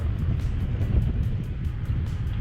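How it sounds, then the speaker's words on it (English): Wind buffets the microphone on a Gulf fishing pier, a steady low rumbling roar with gusty surges and no other clear sounds. "the wind is blowing pretty good"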